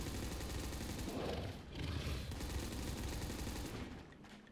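Rapid bursts of gunfire rattle from a pistol in a custom zombies video game, fairly faint and continuous with short gaps, and no voices over them.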